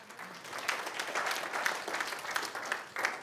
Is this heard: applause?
yes